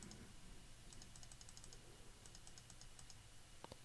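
Typing on a computer keyboard while entering table and field names in a database program, with a steady run of light, close key clicks in quick bursts and a couple of louder taps near the end.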